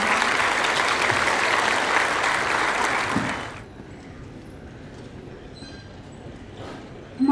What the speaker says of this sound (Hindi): हम सब जोरदार तालियों के साथ स्वागत करेंगे अपने माननीय